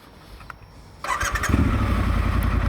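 A Triumph Scrambler 1200 XC motorcycle starts up: a short starter whir, then the big twin catches and settles into a loud, close, throbbing idle that carries on steadily.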